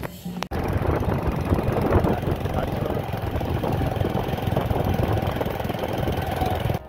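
A motorbike engine drones loud and steady while riding on a road near Bolpur, a continuous rough rumble with wind buffeting after a brief click at the start.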